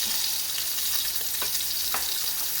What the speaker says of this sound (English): So I'm going to continue frying them